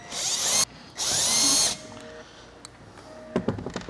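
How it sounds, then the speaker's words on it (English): Power drill driver spinning out screws from a battery box board, two loud whirring bursts with a pause between, followed by quieter clicks and handling knocks. "What we're gonna do next is remove one, two, three, four screws, and that's using the same bit."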